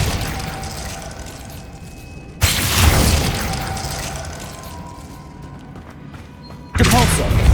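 A Glacius freezing spell cast in Hogwarts Legacy bursts loudly mid-clip, a sharp booming blast that rings out and fades, followed by a second heavy burst near the end over a low mechanical background.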